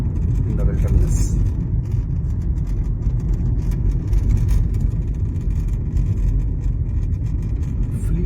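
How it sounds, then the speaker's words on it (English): A fleet of cars passing on a road through the Al Marmoom desert, heard as a steady low engine and tire rumble that carries through the whole stretch, with faint higher whooshes as vehicles go by. "Fleet of cars coming,"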